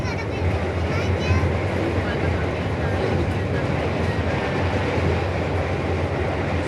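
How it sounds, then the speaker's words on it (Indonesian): An airport train passes in Yogyakarta, a continuous low rumble of rail cars with faint clickety-clack, steady and moderately close, while voices talk over it. "Itu kereta bandara sekarang."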